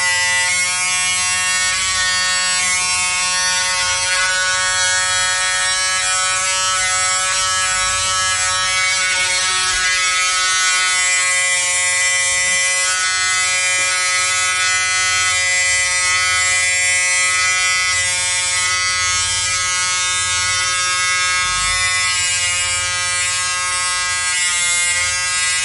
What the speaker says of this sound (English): if you want to get really fancy, you can actually use a beard trimmer